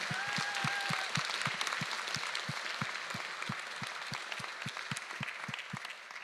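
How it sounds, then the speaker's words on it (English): A crowd applauds at a university student team's boat reveal event, a sustained dense patter of many hands with a steady rhythmic clap pulse running underneath, fairly close and even in loudness. "I want to hear another applause for Isabel, my chief, our Leo"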